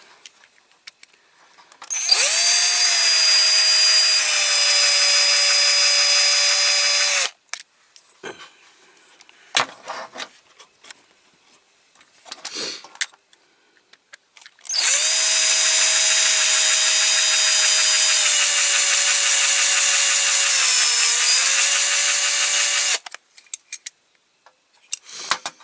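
A power drill works on a Dinky Toys 30V NCB electric van during disassembly, giving two long, loud whining bursts with a steady pitch and a slight dip near the end. Brief clicks and handling noises fall in the pause between the runs.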